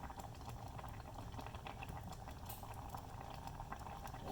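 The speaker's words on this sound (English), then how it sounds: "Now we want to turn on the heat a little bit just to bring it back to a boil." Pot of green bean soup with sago pearls coming back to a boil, a close, busy bubbling and popping with frequent small bursts, steady throughout and free of talk.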